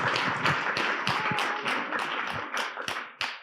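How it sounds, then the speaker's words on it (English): An audience at a forum claps in a dense, even round of applause, close and fairly loud, with individual claps standing out as it gradually thins toward the end. "there's worth a round of applause"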